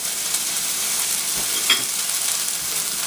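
Regular onion, added with green onion and jalapeno, fries in a pan for a pork po' boy, giving a steady close hiss with one brief clink partway through.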